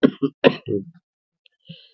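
Close, loud coughing and throat clearing: a cluster of harsh coughs in the first second, then silence and a faint final clear near the end.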